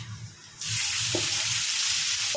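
Onions for butter chicken hit a hot pan and burst into a sudden, bright sizzle that holds steady and close, with a faint clink from the pan.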